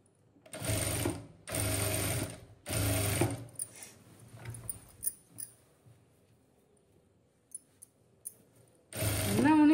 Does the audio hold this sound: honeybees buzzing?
no